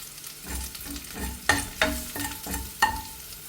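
Sweet corn paratha filling stirred with salt in a hot pan: a soft frying sizzle runs throughout, punctuated by several sharp scraping taps of a spatula against the pan, close and clear.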